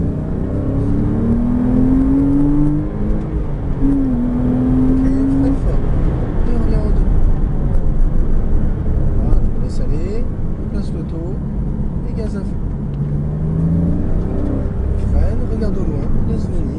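A Porsche Cayman S pulling hard at full throttle on the Chenevières circuit during a sprint racing course, a steady loud engine roar with rising whines as it revs, under continuous talk from an instructor.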